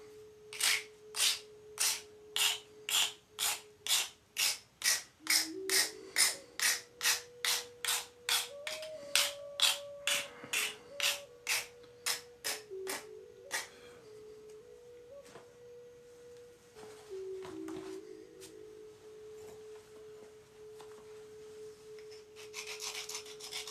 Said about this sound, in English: Sharpen up this tool just a little bit.